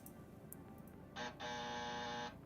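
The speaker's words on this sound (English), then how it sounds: "I'm going to test the buzzer." A buzzer sound effect tested during a casual gaming live stream sounds in two steady electronic tones, a short burst followed by a longer sustained buzz, clear over faint background noise.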